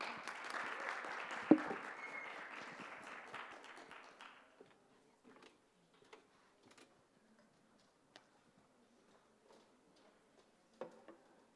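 An audience at a talk on totoaba and sustainability claps for about four seconds to welcome a speaker, a moderate wash of applause that fades out into quiet with scattered faint ticks and knocks.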